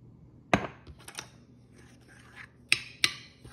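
Flour, brown sugar and cinnamon being stirred in a bowl for a Georgia peach crisp topping: soft, dry scraping with a few sharp clicks of the utensil against the bowl, close and fairly quiet.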